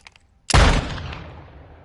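One sharp, loud gunshot in Modern Warfare 2 multiplayer cracks suddenly after a near-silent moment, then decays into a long rolling echo.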